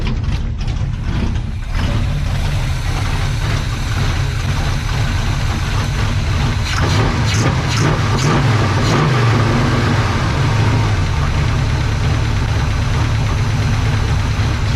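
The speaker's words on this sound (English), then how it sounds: "Let's go set the idle up a hair." A 1970 GMC truck engine idles loudly and steadily up close, a continuous rumbling throb with some rattly knocking in it and no talking.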